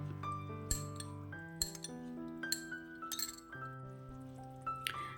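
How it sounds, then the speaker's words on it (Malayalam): A spoon clinks repeatedly against a cup while stirring cornflour into a quarter cup of water for a chilli paneer recipe, bright ringing taps at irregular intervals, close and clear with no voice. "1/4 കപ്പ് വെള്ളത്തിൽ ഒന്ന് നല്ലവണ്ണം കട്ടയില്ലാതെ ഒന്ന് കലക്കിയെടുക്കുക."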